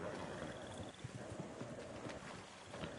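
Ronnie the horse walking, hooves clip-clopping in a steady uneven rhythm over a busy outdoor game soundscape, close and moderately loud throughout.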